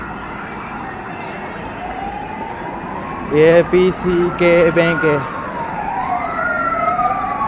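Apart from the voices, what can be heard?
ambulance siren passing in street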